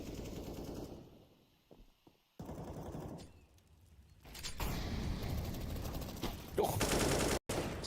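Counter-Strike gunfire on Inferno during a G2 versus Heroic match, scattered shots early, then sustained loud bursts of automatic fire in the second half, with a commentator talking over it.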